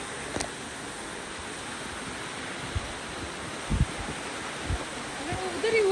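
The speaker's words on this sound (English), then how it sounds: "That's the waterfall." Rushing water of Bagsunag Waterfall in Dharamshala, heard as a steady broadband roar that fills the scene, with wind buffeting the microphone and occasional voices and footsteps nearby.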